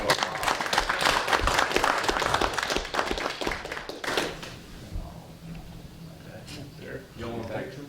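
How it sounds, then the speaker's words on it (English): Audience applause at a school board meeting, dense clapping for about four seconds that thins out and fades into scattered claps, with a voice speaking briefly over the tail end. "So let's give Mr. Gorham a round of applause."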